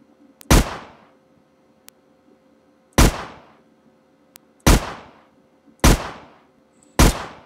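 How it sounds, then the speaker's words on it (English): Five sharp, loud gunshots ring out in a Unity 3D game, spaced roughly one to two seconds apart, each with a quick decaying tail over a quiet background. "Grab us a gun. Take a few pop shots."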